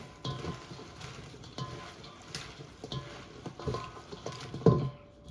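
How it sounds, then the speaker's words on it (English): A Caesar salad is tossed with dressing in a bowl, giving soft, close rustling and patting sounds that come in uneven bursts, with one louder scrape near the end; no talking. "we're going to take the salad, mix it around until it's all incorporated"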